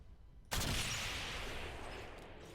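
A rifle shot from the video game Ghost Recon Phantoms bursts in sharply after a quiet half second, followed by a loud lingering roar and reverberant tail that slowly fades.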